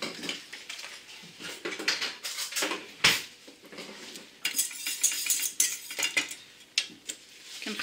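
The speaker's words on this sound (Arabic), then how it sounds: "كنخلطها هكذا مع الماء مزيان وكنكبها وكنبقى نخلط" Agar agar powder stirred into water in a bowl, a busy run of close scraping and clinking from a utensil against the container, steady with small bursts and no talking.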